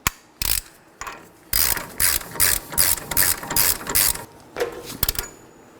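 A hand ratchet clicks in quick repeated bursts while tightening the front wheel hub nut on a 2013-2019 Nissan Sentra, a close, crisp series of pawl clicks with short pauses between strokes.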